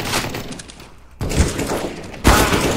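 Gunfire in the Counter-Strike: Global Offensive video game: loud rifle bursts and bangs, three sharp onsets separated by brief gaps, close and punchy with no one talking.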